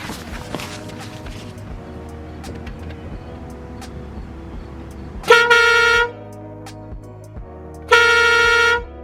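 A train horn fitted to a Ford Focus ST blasts twice, each a loud sustained chord of a second or so, close by, after a stretch of quieter engine and footstep noise.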